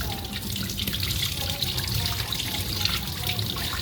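Herb leaves being rinsed under running water, a steady splashing stream with soft trickling and dripping, close and continuous with no talking.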